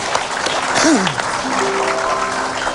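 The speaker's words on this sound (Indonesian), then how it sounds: "Tepuk tangan untuk Deddy Corbuzier." A studio audience claps on an Indonesian TV talk show, a dense continuous patter of applause with a brief tonal whistle or shout mixed in, moderately loud throughout.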